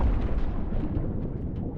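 A plane blowing up in mid-air as a sound effect, heard as a dense, continuous low rumbling roar that stays loud throughout its short span.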